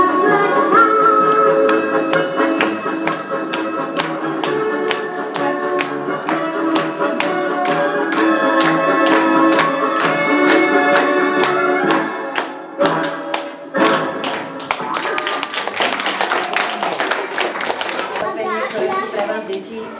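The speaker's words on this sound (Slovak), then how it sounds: "každý zatleská" At a children's school performance, an audience claps in steady time as children sing a Slovak winter song, and the clapping breaks into louder, denser applause near the end.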